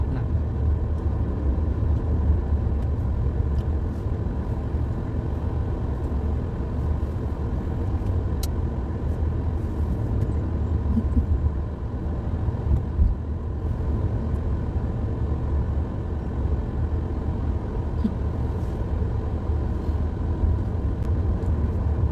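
Steady rush-hour road traffic near Balintawak heading toward Cubao, a dense continuous rumble of cars and buses close by, loud and unbroken with no voices.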